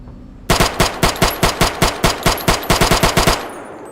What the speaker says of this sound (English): Yo, this gun shoots a lot slower than the other one.